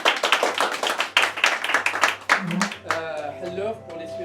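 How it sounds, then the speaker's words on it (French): An audience at a stage hypnosis show claps in quick rhythmic bursts, loud and close, then the clapping fades as a voice begins speaking over it. "Applaudissements"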